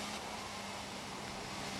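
Steady synthetic engine drone of a car driving in the mobile game Car Parking Multiplayer, quiet and continuous with no voices.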